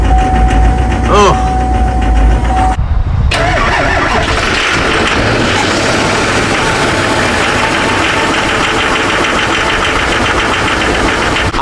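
A Duramax diesel truck engine, an oil-leaking Facebook Marketplace find with an aftermarket fuel cooler, cranks briefly, falls silent for a moment, then catches and settles into a loud, knocking diesel idle close by.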